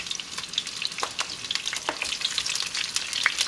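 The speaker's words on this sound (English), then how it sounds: "If your pan is very hot, it shouldn't take you more than a minute to get them seared properly" Jalapeños sear in a very hot pan, a crackling, popping sizzle with occasional sharper spits and light stirring, close and moderately quiet, with no speech.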